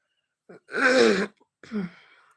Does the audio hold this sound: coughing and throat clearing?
yes